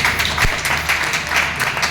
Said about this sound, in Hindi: एक बार जोरदार ताली मारें इस बात में।